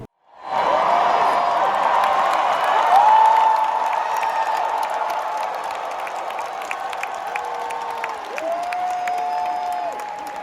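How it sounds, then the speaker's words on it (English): A large live crowd at the Creator Clash 2 boxing event roars and cheers in a sustained, loud wash of noise that swells early and holds steady across the arena. "just look at the crowd's reaction."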